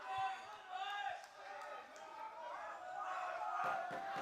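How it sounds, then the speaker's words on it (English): Crowd noise from a Nagaland Super League football match between Barak FC and Red Scars FC, a broad, sustained roar swelling as play builds, heard distantly under a commentator's voice. "every time the ball goes into the attacking third, the crowd comes alive"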